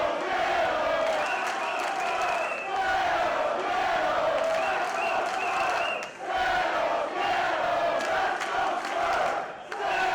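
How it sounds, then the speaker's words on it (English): Wrestling crowd at a PCW Ultra event in the Ultratorium, cheering and shouting loudly and steadily throughout, a dense wall of excited voices with brief dips in volume. "The crowd here, the faithful, certainly fired up as well."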